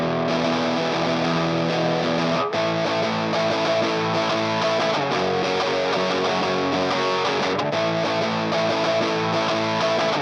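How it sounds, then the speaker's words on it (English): Distorted electric guitar chugs power chords that track the bass root notes in a new wave post-punk beat, loud and sustained, with a couple of abrupt chord changes and no voices. "The guitar is going to follow the root notes of the bass doing power chords"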